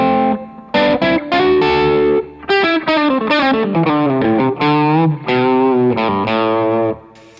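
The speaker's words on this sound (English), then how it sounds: "I'm adding the obvious boost and overdrive first." Les Paul electric guitar played through a Rev D20 amp with boost and overdrive pedals, giving loud, gritty sustained chords and melodic phrases in steady bursts with short gaps, close and alone.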